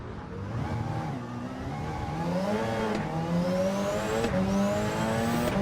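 GT race car lapping Le Mans in Gran Turismo 7 during a four-hour endurance event, its engine climbing through revs with sharp upshifts, loud and continuous and close, with no talk.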